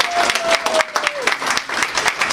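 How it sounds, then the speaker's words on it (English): Graduation-ceremony audience applauding the class of 2015 at a US university, a dense, steady wash of clapping over the whole stretch with a brief tonal whistle-like sweep in the first second. "give yourself a round of applause for mission accomplished"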